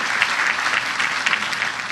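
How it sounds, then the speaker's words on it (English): Loud, dense audience applause at a ribbon-cutting ceremony for BLDG 92 at the Brooklyn Navy Yard, a sustained crowd clapping throughout with no break. "these guys deserve a round of applause"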